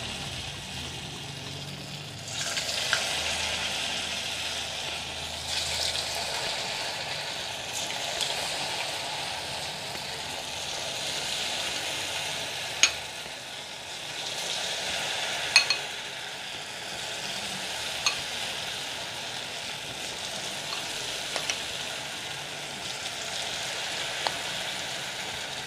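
A small test piece of idli dropped into hot oil, seasoned with ajwain, fries with a steady, soft crackling sizzle that runs for the whole stretch, with a few sharper pops along the way and no talking.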